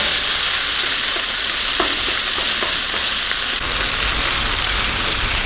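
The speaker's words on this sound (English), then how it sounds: "So we add in the bacon. And we just want to cook this through for about 3 or 4 minutes." Bacon frying in a pan, a close, continuous sizzle and crackle with a few small pops, loud and steady throughout with no talking.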